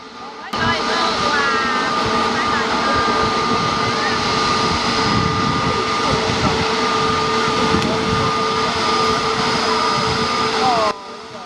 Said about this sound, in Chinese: 我现在把现场的声音调到最大，大家可以感受一下这个飞机引擎强劲的动力。